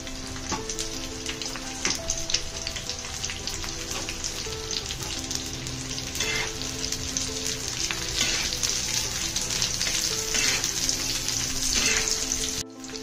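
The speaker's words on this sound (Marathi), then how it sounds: "थोडासा कांदा लाल झाला की मग आपण खोबरंही त्यातच भाजून घेणार आहोत" Onion frying in hot oil until reddish for spicy Kolhapuri misal, a dense continuous sizzle with crackling pops and occasional stirring, close and steady throughout, with no speech.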